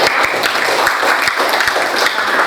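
Classmates in a school classroom give a short burst of applause, a quick patter of clapping hands that lasts only a couple of seconds.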